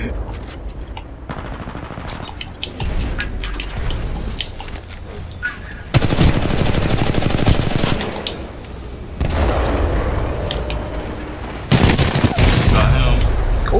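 Pistol shots in Titanfall 2 gameplay, heard as loud gunfire in repeated stretches with sharp jumps in level between them, dense and close, over other battlefield noise.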